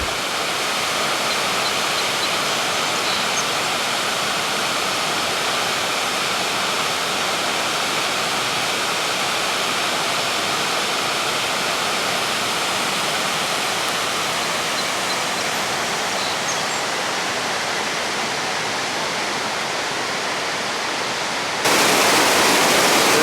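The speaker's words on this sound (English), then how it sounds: "There's a big waterfall near Falls Village." A steady, dense roar of rushing water from a big waterfall near Falls Village on the Appalachian Trail fills the whole stretch, constant and broadband, with no voices.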